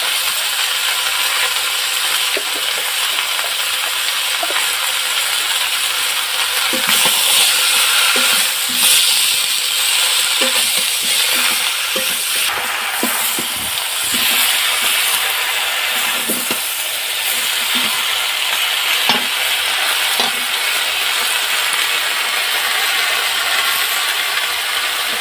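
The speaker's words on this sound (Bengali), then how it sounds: "অনেকটা সবজি হয়ে গেছে, নাড়তে অসুবিধা হচ্ছে।" Pumpkin and Malabar spinach are stirred and fried in a crowded pan for a spinach-pumpkin chorchori, giving a steady bright sizzle with scattered scraping and clicking knocks from the spatula, continuous and fairly loud with no talking.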